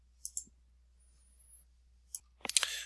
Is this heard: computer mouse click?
yes